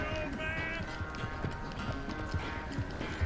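Shire horse hooves in the Western game Red Dead Redemption 2, a steady clip-clop of hoofbeats trotting along at moderate loudness over a continuous bed of game music and ambience.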